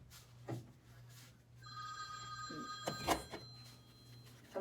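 A telephone rings indoors with a bright electronic trill lasting over a second, fairly faint against a low background hum, with a few soft bumps around it.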